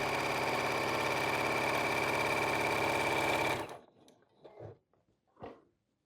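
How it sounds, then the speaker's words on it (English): Sewing machine running a straight stitch around the edge of a flannel baby blanket, a steady loud mechanical whir for several seconds that stops abruptly, followed by faint handling clicks and rustles. "I'm going to run just a little straight stitch around the entire outside perimeter"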